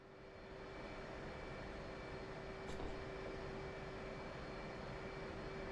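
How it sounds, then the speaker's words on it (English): Steady, loud engine roar of an F/A-18 fighter jet in a flight simulator game, a constant drone with a faint tonal whine, no voices. "Yeah, I do have a jet engine in here. I'm flying an A-18."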